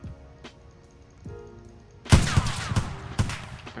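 Rapid pistol fire in the video game Electric State: DarkRP, an M1911 or Desert Eagle, with a short burst of loud, sharp shots after about two seconds of quiet background hum.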